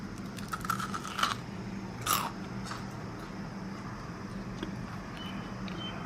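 A crispy chocolate-filled Nutella B-Ready wafer being bitten, giving two sharp close crunches early on followed by quieter chewing.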